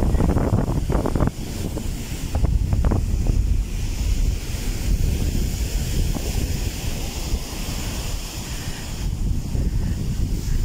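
Loud, continuous roar of large sea waves crashing during a typhoon, mixed with strong wind buffeting the microphone.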